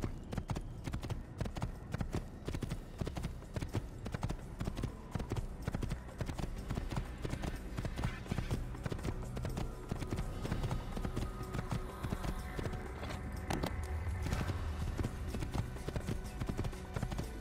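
Horse hooves clip-clop steadily and up close in the Xbox 360 game Assassin's Creed, a continuous rhythmic trotting over a dense game soundscape for the whole stretch, with no voices.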